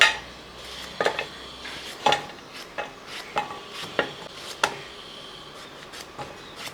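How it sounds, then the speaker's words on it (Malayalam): A knife slices raw mango on a cutting board, sharp knocks coming roughly every half second in an uneven but steady rhythm, close and clear over faint kitchen background. "ഈ രണ്ട് മാങ്ങ ഇതേപോലെ ഒരേ കനത്തിൽ ഇങ്ങോട്ട് അരിഞ്ഞെടുക്കുക"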